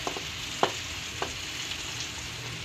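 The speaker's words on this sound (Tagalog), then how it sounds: "Hotdog lang naman niluluto mo eh." A hotdog frying in a pan, a soft continuous sizzle with a few sharp pops and crackles spaced across a couple of seconds, close by and with no talking.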